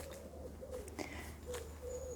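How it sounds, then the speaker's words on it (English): Soft bird calls drift through a forest, faint coos and chirps repeating over a steady low hum, fairly distant and without talking. "I hope that you can hear the beautiful bird song."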